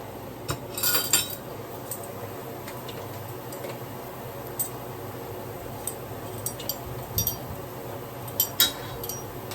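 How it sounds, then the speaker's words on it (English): Utensils lightly clinking against a pot or bowl while spices are added to rice for Jamaican-style seasoned rice: scattered, faint metallic taps and ticks over a low background hum, irregularly spaced, with a small cluster near the start. "I'll go ahead and I will add my spices."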